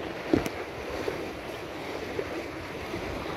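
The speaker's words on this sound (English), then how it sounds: "On a pas mal de vent." Wind and waves while sailing, steady wind buffeting the microphone over soft sloshing water, with a brief knock or splash near the start and fainter ones later.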